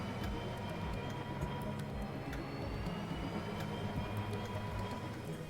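A train rolling along track in a train-driving video game, a steady, continuous rumble with light rattling and clacks that stays even in level throughout, with no voices.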